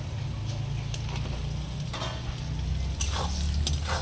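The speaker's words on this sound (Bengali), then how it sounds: "এবার আমি ভালো করে মশলাটাকে কষিয়ে নেবো" Spices with red chili powder and ground coriander are stir-fried in a pan for goat meat curry, a steady close sizzle with faint scraping stirs, continuous throughout and without talk.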